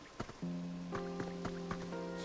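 A faint, constant watery rush from a waterfall in the Pokopia video game sits beneath gentle plucked musical notes and a few soft taps, quiet and even.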